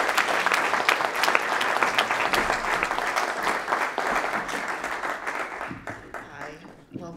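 Sustained crowd applause greets a speaker at a Chicago labor union forum on police accountability, dense and steady throughout and fading slightly before a voice begins speaking near the end.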